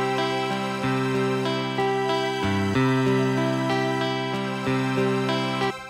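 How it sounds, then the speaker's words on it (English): Korg keyboard pad playing an electric guitar arpeggio layered with sustained string harmony, a steady loud chord sequence with rhythmic plucked notes over smooth strings, shifting chords every second or so, no voices. "So you're now going to hear the electric guitar and the strings."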